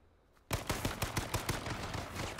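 Video game gunfire breaks out suddenly as a rapid, even burst of automatic shots, loud and close, with no talking over it.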